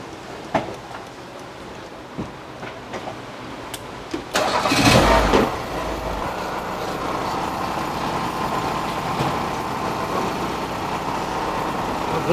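A Tofaş Kartal station wagon's engine cranks in a workshop during a checkup for a coolant leak and valve adjustment. It catches after a few seconds and settles into a steady, close idle, with a few light clicks before the start.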